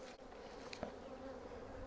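Honey bees buzzing around a backyard farm hive, a steady faint drone with a few individual bees passing close, quiet and continuous with no voices.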